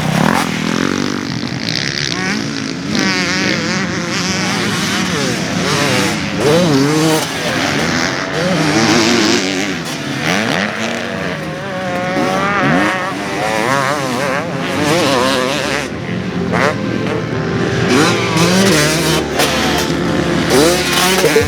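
A 2024 KTM 300SX fuel-injected two-stroke motocross bike rides hard, its engine revving loud and close with rising and falling pitch sweeps as the throttle opens and closes, continuous and alone throughout.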